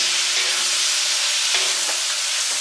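Food fries in a new cast iron wok over an outdoor setup, a loud, steady hissing sizzle with a few stirring scrapes and knocks mixed in.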